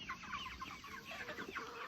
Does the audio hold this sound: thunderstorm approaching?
no